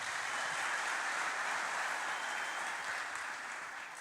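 Church congregation applauding together, a dense steady wash of clapping that holds for about four seconds and eases slightly toward the end, with no talk over it.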